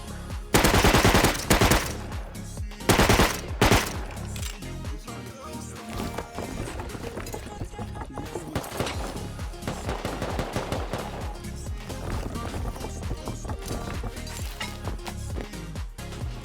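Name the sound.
gunshots in the video game Rust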